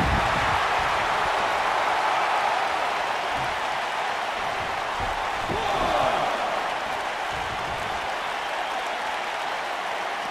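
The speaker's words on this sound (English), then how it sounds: "We've got a raucous crowd here in Philadelphia tonight" A packed Philadelphia wrestling arena crowd in the WWE 2K video game roars and cheers in a loud, continuous wash, with a few muffled thuds rising out of the steady din.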